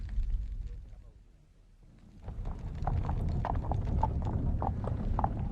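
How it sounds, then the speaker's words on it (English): Superb horses pulling a very expensive carriage with a liveried footman, hooves clip-clopping in a steady rhythm over a rumbling wheel and road noise, the sound swelling as they draw closer. "A very expensive carriage, superb horses and a liveried footman"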